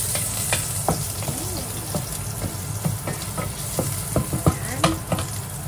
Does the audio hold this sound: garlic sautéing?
yes